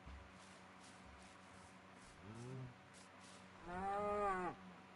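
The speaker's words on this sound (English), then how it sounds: "That moo was aggressive." Two Minecraft cow moos ring out, a short low one midway and a longer, louder, more tonal one near the end, over a quiet game background.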